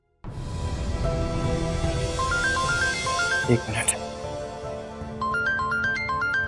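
A mobile phone ringtone plays a repeating electronic melody of short bright notes, loud and close indoors, while someone speaks briefly over it before the tune pauses and starts again.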